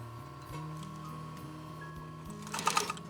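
A home sewing machine sets a few quick stitches into fabric for a stuffed cork flower, a brief, close burst of rapid needle clatter near the end after steady low hum.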